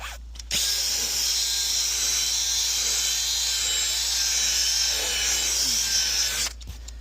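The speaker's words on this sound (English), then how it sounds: "Now, drill brush." A power drill fitted with a scrubbing brush whirs steadily and loudly for several seconds, a high-pitched continuous buzz with a low hum, starting and stopping abruptly.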